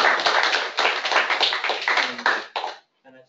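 A small seminar audience claps for the speakers, a modest cluster of nearby hands in uneven bursts that thins and stops near the end, followed by a brief murmur.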